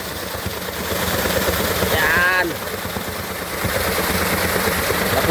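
Water falling at a river waterfall, a constant dense roar filling the background, close and loud, with people talking over it.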